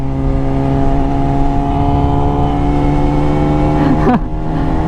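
A car engine drones steadily at high revs, loud and close, with a brief pitch swoop near the end as the engine note shifts.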